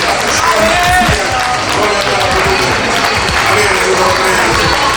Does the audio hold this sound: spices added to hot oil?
no